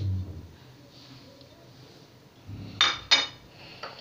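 Strawberries dropped into a jug for a milkshake give a few short, close knocks and clinks near the end, after a quiet stretch with no talk.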